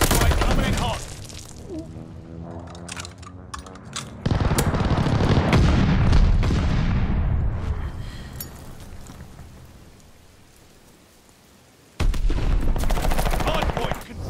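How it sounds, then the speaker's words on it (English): An allied airstrike in Call of Duty Vanguard brings loud, dense bursts of explosions and rattling gunfire that roll into a long fading rumble, then a fresh burst of blasts erupts near the end. "Allied airstrike coming in hot."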